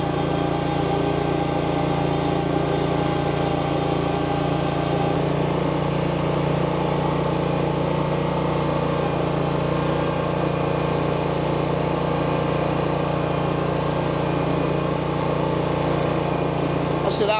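A lawn mower engine runs steadily throughout, a constant close-up drone with a strong low hum, while the machine mows turf cut to 2.75 inches that has fungus damage.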